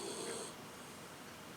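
Soft, faint snoring from someone asleep nearby, with a slightly louder breathy rasp in the first half-second that then fades into a quiet, steady background.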